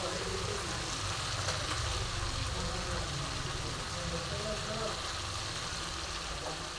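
Bone-in chicken sautés with spices in a hot pan for panch phoron chicken, giving a steady, even sizzle and crackle that carries on throughout.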